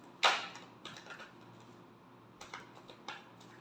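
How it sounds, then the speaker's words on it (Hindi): Tarot cards being shuffled by hand: a sharp riffling burst at the start, then quieter scattered flicks and taps in irregular clusters, close and soft, with no talk. "last shuffle"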